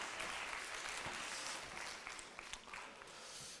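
Applause from a youth congregation at a church service, a steady dense patter of many hands clapping at once that holds for several seconds before trailing off slightly at the end.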